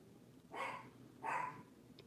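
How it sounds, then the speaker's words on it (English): A teacup Yorkie barks twice, small and fairly faint indoors, with short gaps and a quiet background. "That's my teacup Yorkie."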